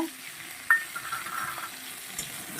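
Tomato, green chillies and bori lentil dumplings fry quietly in a pan, a low sizzle with a single sharp utensil knock and faint scraping as the mix is stirred.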